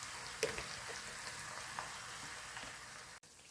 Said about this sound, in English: Let me let this fry, and I will be back in about 20 minutes,